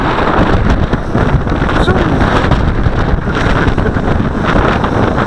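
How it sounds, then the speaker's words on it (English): Loud, constant wind buffets the microphone outdoors on a blustery day while a Xinxun X50 Sky Alien quadcopter flies, a dense roaring rumble that barely lets up from start to finish. "This is not reasonable wind."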